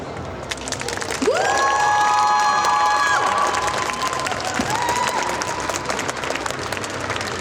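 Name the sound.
audience applause and cheering at cosplay show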